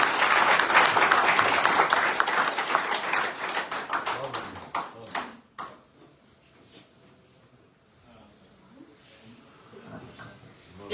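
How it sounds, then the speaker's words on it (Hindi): Audience applause at a business gathering, a dense burst of many hands clapping for about five seconds before fading into a few scattered claps and quiet room murmur. "एक बार जो तालियां बजाएंगे।"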